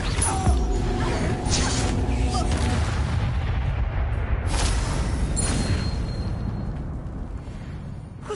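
Incendio fire spell from Hogwarts Legacy bursting out as a loud, sustained roaring whoosh of flame with booming low rumble, fading slightly toward the end amid game combat noise.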